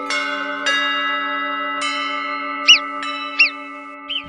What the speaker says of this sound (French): elle est pas belle ta cloche avec la croix suisse